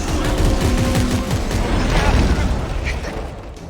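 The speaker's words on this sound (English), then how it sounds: "shoot the explodey things" Explosive objects in a co-op video game being shot and blowing up, a dense, loud barrage of overlapping booms and gunfire bursts with constant rumble throughout.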